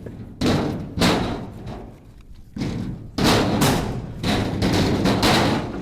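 Split firewood logs are chucked onto a pile one after another, giving heavy, irregular wooden thuds and clatters close by, several impacts in quick succession with short pauses between throws.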